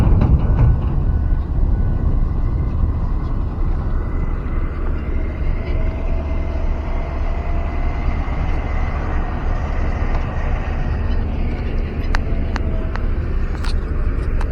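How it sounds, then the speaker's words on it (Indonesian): Heavy trucks hauling fill soil along a toll road construction site at Lubuk Alung, a continuous low rumble of engines and rolling wheels, loud and close, with a few sharp clanks toward the end. "banyak sekali kendaraan truk yang lalu lalang di kawasan ini membawa tanah timbunan"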